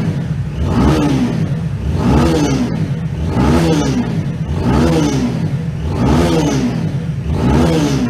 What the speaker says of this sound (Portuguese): o ronco dessa moto, mesmo com o escapamento original, fazendo um ronco sensacional